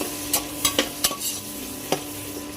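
Onions and green chillies being sautéed in a pan until lightly browned for chicken biryani: a soft steady sizzle with a few sharp scrapes and taps of the spoon stirring, moderately close, no voices.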